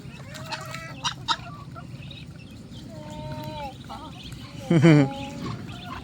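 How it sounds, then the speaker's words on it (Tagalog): Chickens cluck and squawk nearby, with a loud burst of agitated calls near the end; faint voices and background noise sit underneath. "Manok naman huli mo."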